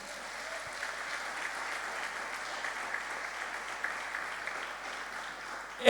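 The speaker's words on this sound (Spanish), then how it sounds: "Dale un aplauso a Jesús." A church congregation claps together at a Spanish-language worship service, giving dense, sustained applause that fills the room evenly for several seconds.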